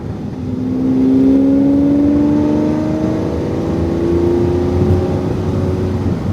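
A car accelerates hard along a race-track straight, its engine note climbing steadily and loud and close, with no one talking.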